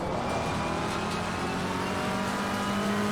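A McLaren GT race car in Assetto Corsa Competizione climbs a long uphill left-hander, its engine note droning steadily and rising slightly in pitch under constant load, loud and close throughout with no talk.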